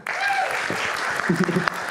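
Applause from a crowd during a heated debate fills the whole stretch, steady and dense, with a voice speaking faintly underneath.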